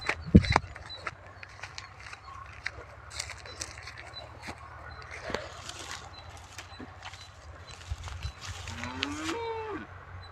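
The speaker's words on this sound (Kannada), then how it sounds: "ನಮ್ಮ ಹಸು ಏನು ಕಿರಿತಾ ಕೊಂಡೈತಿ." A cow lows outdoors while grazing, one drawn-out moo near the end that rises and then falls, after scattered knocks, rustles and hoof-like clops. No one speaks.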